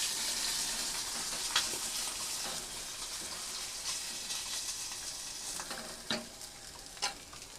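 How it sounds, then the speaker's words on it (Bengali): Rohu fish pieces fry in hot oil with a continuous close sizzle, punctuated by occasional clacks and scraping as the pieces are moved and lifted out, with no talking. "আর একটাই মাছ ভাজা বাকি আছে, লেজ পিস"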